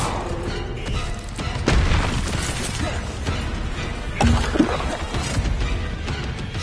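A Confringo fire spell goes off in Hogwarts Legacy, a booming blast with rumbling impacts over constant game background noise, followed by a second thud a couple of seconds later.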